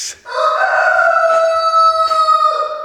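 A chicken calls loudly and close by in one sustained, crowing-like cry that lasts nearly three seconds, with no other sounds around it.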